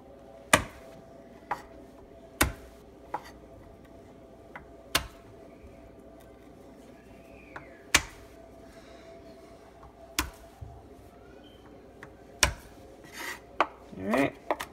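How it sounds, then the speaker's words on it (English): Garlic cloves chopped with a knife on a cutting board for egg rolls: sharp, separate knife strikes spaced a second or two apart, quickening to a small cluster near the end, close and clear over quiet room hum. "So I'm probably gonna cut up about 6 cloves of garlic."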